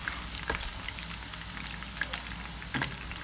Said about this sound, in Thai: ใส่เห็ดเข็มทองลงไปทอดเลยค่ะ